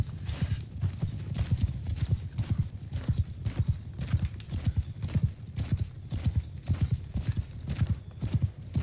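Cavalry horses gallop across the field in the Bannerlord video game, a rapid, steady drumming of many hooves that clatters on without letup for the whole stretch, fairly close and loud, with no voices.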